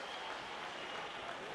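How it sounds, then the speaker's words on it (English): Clare supporters at the LIT Gaelic Grounds cheer a hurling intervention in a Cork v Clare championship qualifier, a steady broad roar of crowd noise sustained throughout with no clear break. "His intervention cheered to the rafters by the Clare crowd"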